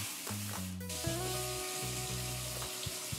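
Red lentils being rinsed under running water give a steady hiss and splash with some tonal ringing from the sink, continuous and close throughout.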